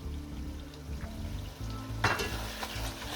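Sweet paprika stirred into hot oil in a pan for a Transylvanian smoked meat and beans dish, giving a steady close sizzle with a louder scrape of the spoon partway through.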